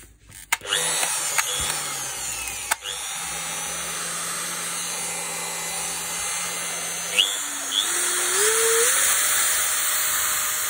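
A Metabo WEV 17-125 Quick RT angle grinder starts up and runs with a steady high whine, near and loud, its pitch shifting up as the speed changes after a few clicks at the start.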